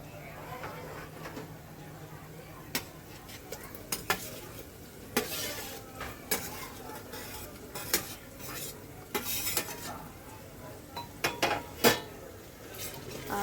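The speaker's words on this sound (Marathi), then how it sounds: "पेस्ट नीट हलवून घेतलं आता आपण टोमॅटो टाकूया" A spoon stirs chopped tomatoes into biryani masala paste in a pot for a vegetable biryani, with repeated light scraping clicks and a soft sizzle running underneath throughout.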